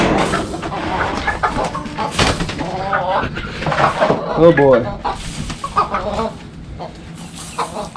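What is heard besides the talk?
backyard chickens clucking in a coop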